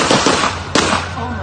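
Police gunfire aimed at a man on the ground during a mental health crisis: loud, close, sharp bursts in a fast cluster, with a strong single report midway, mixed with shouting voices.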